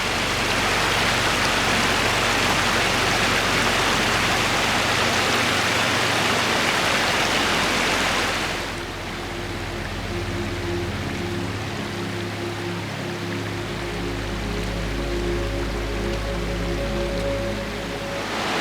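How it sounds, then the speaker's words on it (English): Water trickles steadily along a forest stream on the Water Wheel Falls Trail in Tonto National Forest near Payson, Arizona, loud and broadband at first, then calmer and thinner after about nine seconds with a faint tonal hum underneath. "over here it's just a nice trickling stream"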